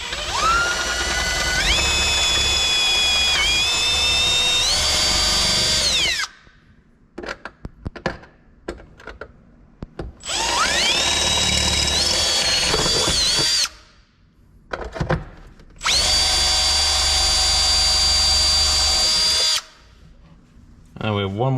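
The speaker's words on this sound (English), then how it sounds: "Just drilled out those little rivets there." A power drill bores out small rivets on a bracket from a Lotus Elise. It runs in three long, loud, close bursts whose pitch rises as each one bites, with clattering handling and a man's speech in the pauses.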